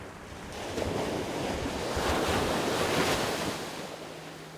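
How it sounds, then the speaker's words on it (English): Ocean groundswell waves roll in and break, making a steady, broad wash of surf that swells and fades. Wind buffets the microphone throughout, and no one speaks. "All of these waves are just storms and groundswell from very far away."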